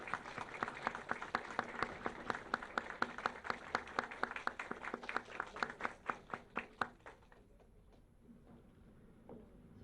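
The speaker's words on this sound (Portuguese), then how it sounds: "Vamos aplaudi-los, por gentileza." An audience at a Ministry of Health certificate presentation in São Paulo bursts into brisk, crisp applause that holds steady for several seconds, then quickly tapers off and leaves a quiet room.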